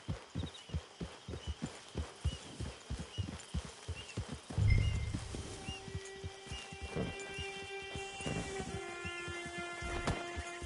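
Horse hooves clip-clop in a steady rhythm through a western camp in the video game Red Dead Online, with a short neigh partway through, a low thump, and bright tonal game sounds rising toward the end.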